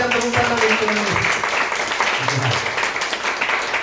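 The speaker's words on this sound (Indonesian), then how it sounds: "Berikan tepuk tangan untuk Tuhan" A church congregation claps for God, a dense wash of applause rising under a speaker's voice that talks over it throughout.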